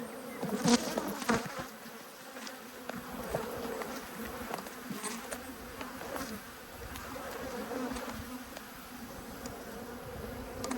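Dense, continuous buzzing of many honeybees around an apiary hive fills the clip, a steady hum with occasional closer wingbeats passing by; no voices.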